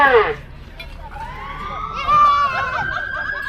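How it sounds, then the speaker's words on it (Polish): A fire truck siren is switched on and winds up as a rising wail that climbs and holds over about three seconds, fairly loud against background chatter. "Strażak, włącz tam jeszcze syreny, włącz koguty!"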